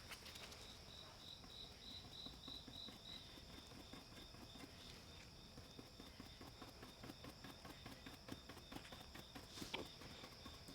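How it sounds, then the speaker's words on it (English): Crickets chirp steadily in the background at night in the Midwest, heard through open garage doors, a faint continuous trill with no talking, distant and even throughout. "Are those real crickets that I hear in the background?"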